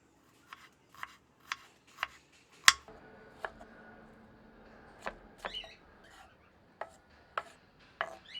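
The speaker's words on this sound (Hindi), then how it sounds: "एक मध्यम आकार की प्याज को बारीक काट लेते हैं।" A knife finely chops a medium onion on a board: sharp, evenly spaced single strokes, about a dozen over several seconds, close and crisp against a quiet background with no talking.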